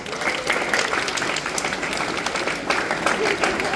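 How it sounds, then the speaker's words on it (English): Students at a school assembly applaud in a dense, steady patter of many hands, a broad crowd clapping that runs throughout with faint voices underneath. "You clap, all of you."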